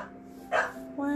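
Adult dogs in a home raising Goldendoodles give a single sharp bark followed by a lower bark or whine, close and fairly loud over a steady background hum.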